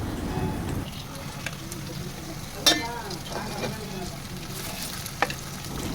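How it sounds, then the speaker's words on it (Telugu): Chicken pieces frying in hot oil with curry leaves for a restaurant-style chicken curry, giving a steady close sizzle with a few sharp clinks from utensils against the pan. "చికెను ఒక 5 మినిట్స్ అలాగా ఆయిల్లో అయితే ఫ్రై చేసుకోవాలి."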